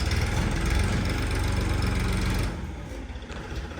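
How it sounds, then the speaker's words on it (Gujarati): A tractor fitted with a shovel attachment runs with a steady, rumbling engine near by, loud and even for a while before the level drops and it idles more quietly at the end. "ટ્રેક્ટર લઈને ટ્રેક્ટરનો પાવડો લીધો છે"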